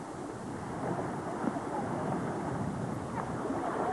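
Wind sweeps steadily over open water at a fishing spot, a constant close rushing roar with no pauses and faint voices buried beneath it.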